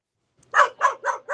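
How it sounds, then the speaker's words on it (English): A dog next door barks frantically, heard from a neighboring balcony: four sharp barks in a quick, evenly spaced run after a short silence, fairly loud and clear, with no talking over them. "it's a dog next door to her going crazy"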